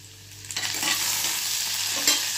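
Chopped garlic hits four spoons of hot oil for a red lentil soup and bursts into a loud, close sizzle, stirred with a spoon scraping the pan, no voice.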